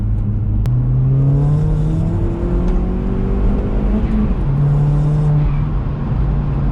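A modified mk1 Skoda Octavia vRS engine revs up close in third gear, its pitch climbing steadily and dipping at each shift, with a continuous mechanical whir underneath.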